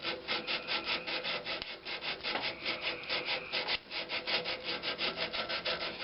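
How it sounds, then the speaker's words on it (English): Hand sanding of a turned maple wood vase, a rapid, rhythmic back-and-forth rasping with regular strokes, close and clear with no voices. "we're just going to keep on sanding."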